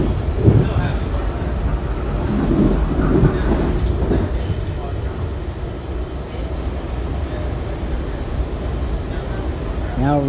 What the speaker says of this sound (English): Now the sound is resembling the London Underground, Victoria Line specifically.